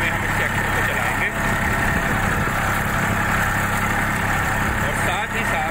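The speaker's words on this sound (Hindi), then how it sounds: "ये 1530 आरपीएम पर ट्रैक्टर को हमने सेट कर लिया है और हम ट्रैक्टर को चलाते हैं" A tractor engine runs steady at 1530 rpm, its rated speed, in high gear with a folding lift harrow, a loud continuous low drone with vibration and no talk.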